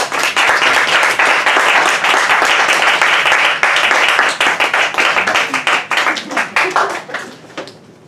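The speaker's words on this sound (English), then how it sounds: "please join me in a round of applause for Michael and John" Audience at a literary event applauding authors Michael Pedersen and John Wray, a close, loud round of clapping that holds steady for several seconds, then thins into scattered claps and fades out.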